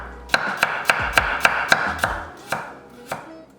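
A knife thinly slices a small quartered potato on a cutting board, a quick run of crisp, evenly spaced chops that slows into a few final cuts, close and loud with no talking.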